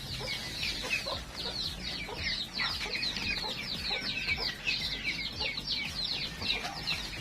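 Native chickens clucking busily on a small farm, overlapping soft calls from several birds close by over a low background hum.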